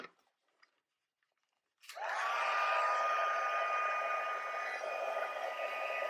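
A handheld heat tool melting embossing powder on a stamped papercraft project switches on after about two seconds of near silence, then blows steadily and loudly with a high, constant whine.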